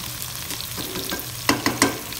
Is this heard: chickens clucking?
no